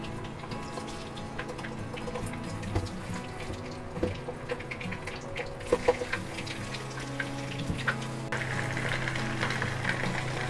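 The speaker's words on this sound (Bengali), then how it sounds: "মুরগির মাংসগুলো খুব বেশি ভাজবো না, 2 থেকে 3 মিনিট উল্টে পাল্টে ভেজে নিব।" Chicken pieces sizzle and crackle in hot oil in a pan, a steady dense frying hiss with occasional clinks of stirring, close and alone without talk.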